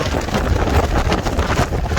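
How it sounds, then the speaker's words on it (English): Strong wind roars and buffets the microphone continuously on the Mount Washington summit, with rumbling low gusts up to 60 mph surging and easing throughout, no voices. "This wind, and they've got gusts up to 60 miles an hour"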